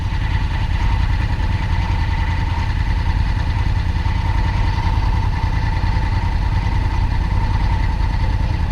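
A motorcycle engine runs steadily at a constant low rumble throughout, close and loud, with no voices.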